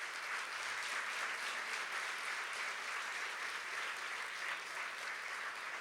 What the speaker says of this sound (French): Je crois qu'on peut une nouvelle fois aussi les applaudir